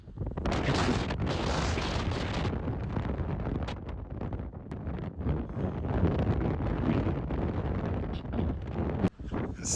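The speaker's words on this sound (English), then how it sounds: "It's a little windy." Steady, loud wind buffeting a microphone on the Icelandic coast, a continuous rushing roar with gusty surges and rumble throughout, no voices.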